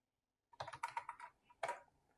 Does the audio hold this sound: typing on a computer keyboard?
yes